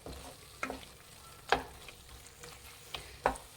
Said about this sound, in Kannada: ಮೀಡಿಯಮ್ ಫ್ಲೇಮಲ್ಲಿ ಇಟ್ಟು ಫ್ರೈ ಮಾಡಿ.